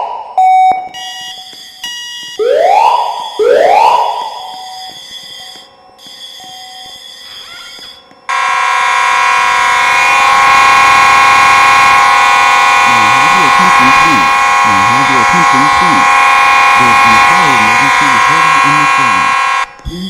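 A Simplex fire alarm system sounds loud and close, opening with rising whoop tones and buzzing bursts before settling into a steady, piercing alarm tone that runs throughout. A recorded voice speaks over the continuous tone in the later part.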